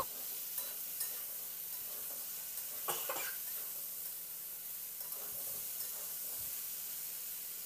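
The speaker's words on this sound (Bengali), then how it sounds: "লবণ আর হলুদটা দিয়ে আরও কয়েক মিনিট সময় ধরে সবজিগুলোকে বেশ হাই টু মিডিয়াম ফ্লেমে এটাকে একটু ভেজে নেব" Pumpkin and malabar spinach fry in a pan over high to medium flame with a faint, steady sizzle and a few scattered scrapes of stirring, all quiet and without speech.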